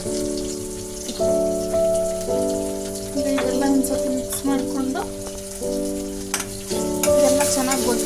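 Tomatoes fry with turmeric in a pan for a pepper chicken dry dish, a steady crackling sizzle with periodic scraping stirs, close up, while a person talks over it intermittently.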